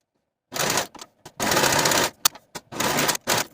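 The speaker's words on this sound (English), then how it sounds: "I'm also going to finish all of the raw edges using my serger." A serger whirs in several short bursts of fast stitching, finishing raw fabric edges of pant pieces, starting and stopping with brief clicks between runs, close and loud.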